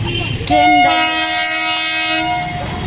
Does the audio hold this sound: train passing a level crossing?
yes